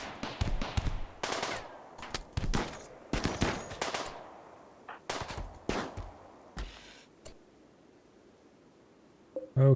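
A turret in the video game RimWorld fires in loud, sharp bursts of gunfire. The bursts are irregular and closely spaced, with quieter gaps between volleys, and a final clipped burst comes at the end.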